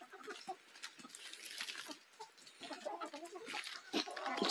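Old chickens on a small farm clucking and rustling as they peck at fresh greens, scattered soft calls and scratching sounds close by, fairly faint.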